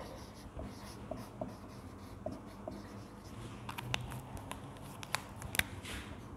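A pen scratches across paper in short strokes and taps while a maths solution is written out by hand, quiet and close, with no talk over it.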